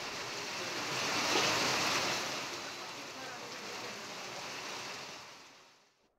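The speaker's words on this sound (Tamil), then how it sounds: "திருவள்ளூர் மாவட்டத்தில் 4வது நாளாக இன்றும் கனமழை பெய்தது." Heavy monsoon rain pours down in Tiruvallur district, Tamil Nadu, as a dense, steady roar that builds slightly, holds, and then fades away at the end. No voices.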